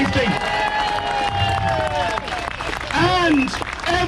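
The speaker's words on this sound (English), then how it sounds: "I want everyone here to give a big cheer and a big round of applause to the memory of PC Keith Palmer, who died for your safety." Outdoor crowd at a street demonstration in London cheering and applauding together, a sustained roar of claps and shouts with voices and whistles rising over it, close and loud throughout.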